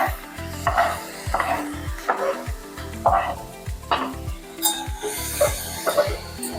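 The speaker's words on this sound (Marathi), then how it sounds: "लाल मिरची पावडर त्याच्यामध्ये परतल्यानंतर त्याच्यामध्ये टमाटे टाकून घे" Tomatoes sautéed with red chili powder in a pan for tomato chutney, heard as a close sizzle broken by repeated rhythmic scraping strokes of a spoon against the pan.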